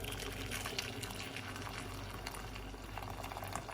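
Hot water is poured into a bowl, a steady close splashing and gurgling stream that lasts a few seconds without speech.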